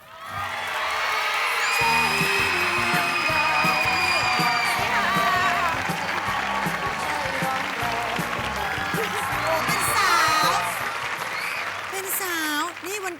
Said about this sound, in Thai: ขอเสียงปรบมือต้อนรับน้องโฟกัสจิรกุลค่ะ